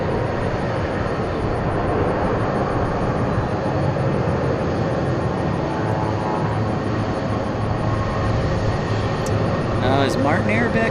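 An airliner engine at a very busy international airport, a loud continuous roar and drone with a high whine, heard steadily throughout.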